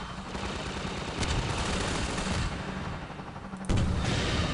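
Bursts of gunfire from the video game Half-Life 2, several loud shots and rapid volleys over a dense, noisy game soundscape, with a sharper blast near the end.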